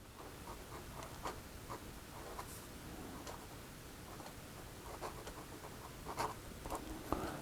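A fountain pen nib writing on paper with a wet, saturated line, heard as faint, close scratchy strokes and soft ticking taps that come in irregular bursts against a quiet room.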